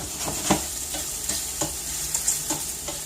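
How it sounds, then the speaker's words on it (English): Two cloves of garlic fry in a dish while being stirred, giving crackling sizzle broken by a quick series of sharp scraping strokes about every half second, close and fairly loud, with no talking. "So 2 cloves of garlic go in there. Give these a quick stir."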